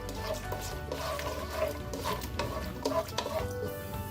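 Whole cashews fry in ghee in a pan with a steady, soft sizzle, broken by occasional scrapes and clinks of a spoon stirring the pot.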